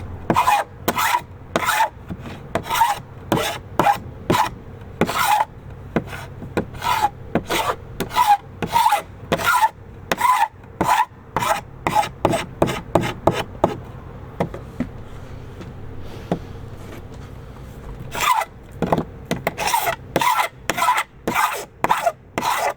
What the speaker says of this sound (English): The first thing I used was a paint scraper.